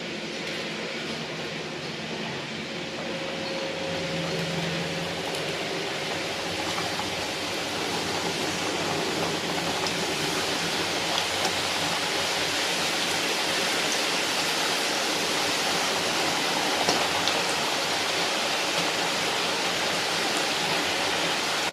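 Wheat flour snack dough frying in hot oil, a steady, dense hiss and crackle that holds at an even level for a long stretch, close and unbroken, with no talking.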